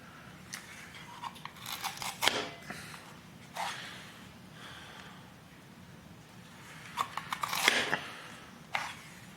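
Garlic is squeezed through a handheld garlic press for corned beef, with two clusters of crunchy, squishing squeezes close by and a single short squeak at the end.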